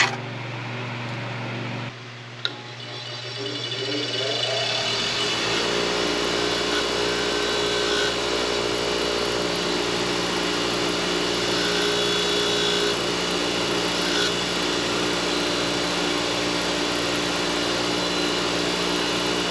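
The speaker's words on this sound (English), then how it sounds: "I'm just gonna clean it up on a wire wheel and put it back in there." A wire wheel spinning up and grinding steadily against a rusty part, a constant loud whirring buzz after a brief start-up, with no speech.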